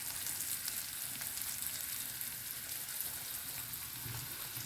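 Chopped onion with salt sautés in a pan, soon joined by ripe tomato, making a soft, continuous low sizzle that stays faint and even, with no talking.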